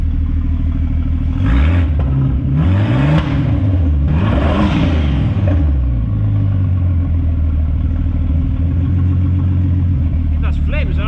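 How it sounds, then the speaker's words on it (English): Two VR6 engines joined on a common crank, fitted with downpipes and catalytic converters, rev hard close up in repeated rising and falling sweeps before settling to a loud, steady drone. "VR6 engines on a common crank. This is how they sound like, just with the downpipes and the catalytic converters."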